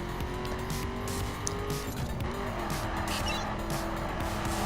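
A car in The Crew racing game drives hard with a continuous engine roar and drawn-out tire squeal as it slides through turns, loud and steady throughout.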